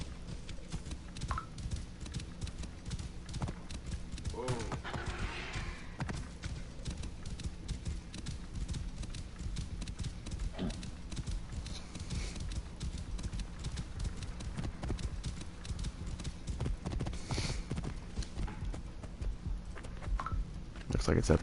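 Rhythmic clip-clop of a horse's hooves as a rider travels in Assassin's Creed Origins, steady and close throughout, with occasional faint game sounds and a voice speaking at times over the hoofbeats.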